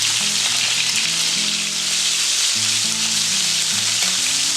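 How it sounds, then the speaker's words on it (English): Diver scallops sear in hot oil in a pan, giving a loud, steady frying sizzle that runs unbroken with no voices present. "Let the oil work its way with the scallops."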